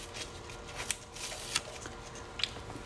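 A heat-pressed Cricut transfer has its carrier sheet peeled slowly at an angle, giving a close, soft crackling rasp with a few small sharp ticks and pops as the film lifts away.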